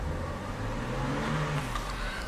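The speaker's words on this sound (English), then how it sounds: "I'm going to rev the engine." The engine of a white 2009 BMW X5 AWD SUV revs up while parked, a steady mid-pitched roar that climbs and then eases back over about two seconds, heard alone.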